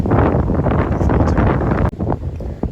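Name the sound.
wind blowing outside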